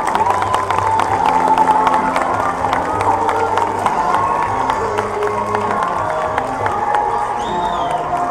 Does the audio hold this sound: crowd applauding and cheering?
yes